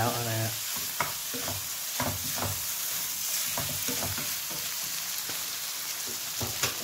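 Squid roe stir-fried with roasted chili paste, giving a loud, continuous sizzle with rhythmic stirring scrapes throughout and a brief voice at the start.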